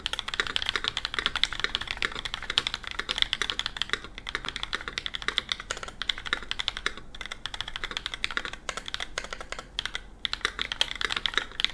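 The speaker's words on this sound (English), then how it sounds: "How does a stock sound of an ID80 V2 sounds like?" A stock Idabao ID80 V2 mechanical keyboard with double-shot ABS keycaps is typed on continuously, a dense, even stream of crisp close clacks with a slight hollow ring from the case.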